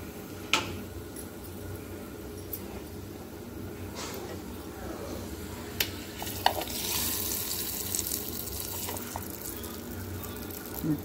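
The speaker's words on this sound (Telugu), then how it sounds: "ఇప్పుడు చట్నీలో మనం పోపు వేసుకోవడమే" Tempering spices with turmeric fry in oil for a chutney, making a low, steady sizzle punctuated by occasional utensil clicks and stirring, with faint background noise.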